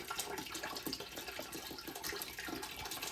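Bottled water pours into a soup pot for taco soup, a continuous splashing gurgle with fluttering bursts, close and steady for a few seconds with no talking.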